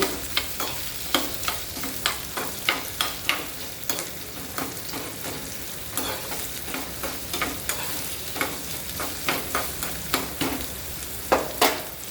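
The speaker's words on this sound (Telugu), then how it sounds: "ఉల్లిపాయలు వేసేద్దాం ఇది బాగా దీంట్లో బాయిల్ చేద్దాం ఉల్లిపాయ కాలింపులో" Chopped onions fry and crackle in hot oil for a tomato rasam tempering, a steady close sizzle broken by repeated stirring and scraping clicks of a spoon against the pan, with no talk.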